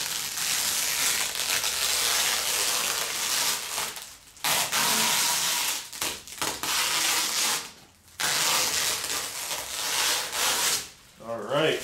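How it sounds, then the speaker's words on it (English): Protective plastic film peeled off a hood bug deflector, a loud close crinkling and tearing rustle in several long pulls separated by brief pauses. "Let's get this plastic off here."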